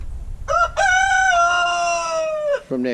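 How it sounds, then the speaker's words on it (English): Chickens in a chicken run call loudly and close by, with one long drawn-out crow-like cry followed by a shorter call, over quiet background. "the chickens are staying in the chicken run"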